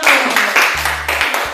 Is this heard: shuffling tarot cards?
no